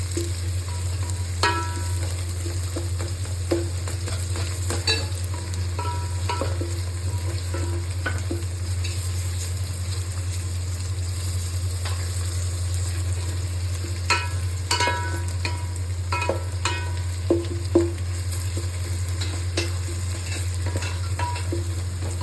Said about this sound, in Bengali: এটা হাই ফ্লেমে আছে। তো এবার আমরা এর ওপরে দিয়ে দেবো টমেটো। টমেটোকে নাড়িয়ে নেব।